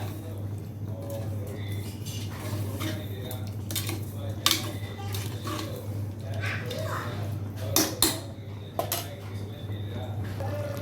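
A utensil stirs turmeric into chicken curry in a pot, giving irregular metallic scrapes and clinks, with a few sharper knocks, over a steady low hum with some talking.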